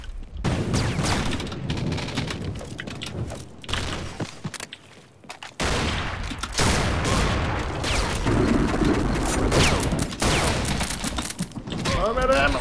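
Gunfire in The Specialists video game comes in rapid bursts of shots and booms that cut off in short gaps and then start again, with players talking over the shooting.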